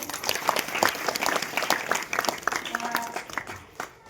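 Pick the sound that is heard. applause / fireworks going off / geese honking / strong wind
applause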